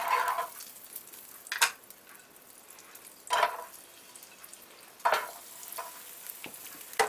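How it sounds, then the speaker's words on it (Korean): Onions sauté in a small amount of melted butter in a pan for a fish chowder, giving soft sizzling with several sharper bursts of hiss as they are stirred, quiet in between, and no one talking. "버터가 녹으면 가장 먼저 양파를 볶아줍니다"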